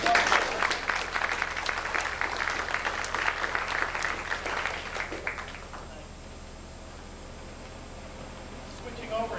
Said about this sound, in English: Maybe we can have a round of applause for the Garden Club.